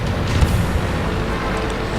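In a tank video game, cannon fire from an enemy T-28 hits the player's tank and knocks off a track. A low rumbling boom fills the scene with a dense, steady roar and no clear separate shots.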